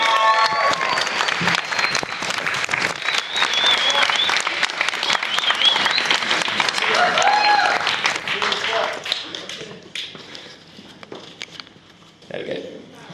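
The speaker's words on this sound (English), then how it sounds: "So can we get a round of applause for all of Zaf's friends?" Wedding reception guests give a round of applause for the groom's friends, dense loud clapping from a crowd that swells, then thins and fades out near the end with a few scattered claps.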